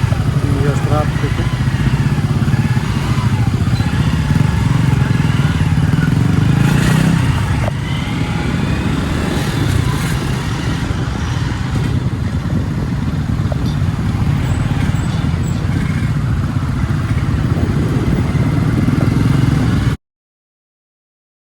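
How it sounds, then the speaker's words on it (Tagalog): Motorcycle riding through busy city traffic in Cebu, a steady engine drone with road and traffic noise running throughout, a voice talking over it at times. "Yes, traffic."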